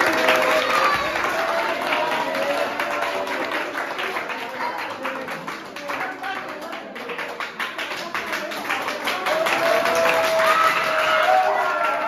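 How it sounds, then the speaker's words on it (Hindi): Crowd clapping in a steady, dense patter that keeps going for around twelve seconds, swelling slightly toward the end, with voices faintly mixed underneath. "ताली मारा के बता"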